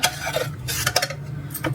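A ladle stirs and presses softened boiled chickpeas against a cooking pot, giving intermittent scraping and clinking knocks in a loose, irregular rhythm, close and moderately loud with no talking.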